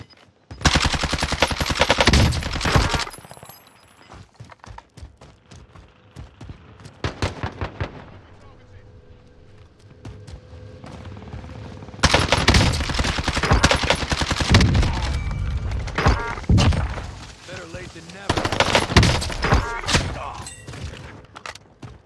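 Call of Duty Warzone gunfire on Rebirth Island comes in loud close bursts of rapid automatic shots, with quieter stretches of distant shooting between them and occasional voices underneath.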